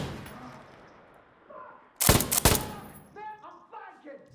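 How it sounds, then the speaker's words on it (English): Two heavy blasts in quick succession boom through a firefight in the game Insurgency, loud and close, after a muffled quieter stretch, with a voice talking afterward. "Oh, someone has shot a rocket"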